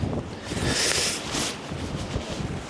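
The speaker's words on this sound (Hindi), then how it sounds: "लेकिन यार क्या बर्फीली हवा चल रही है" Icy wind gusts outdoors on a freezing winter day while car camping in India at minus 13 degrees, a steady broadband roar buffeting the microphone and swelling in loud, rushing surges with no voices.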